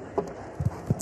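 Horse hooves strike the ground during a show jumping grand prix in London, a few distinct thuds in uneven rhythm, fairly close and clear over a quiet arena background.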